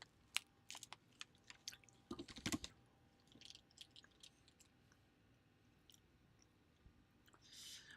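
Crunchy Penny Sticks snacks are chewed close to the mic in quiet bursts of crackly bites, mixed with light clicking that sounds like typing or a controller during a live stream.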